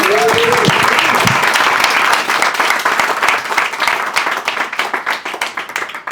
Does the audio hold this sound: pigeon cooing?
no